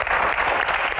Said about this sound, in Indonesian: Tepuk tangan untuk Q&A malam ini.